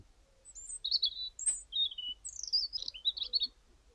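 A male bird sings near Anglesey woodland, a string of clear high chirps and warbled phrases repeating through four seconds with brief gaps, fairly close and alone over faint low background rumble.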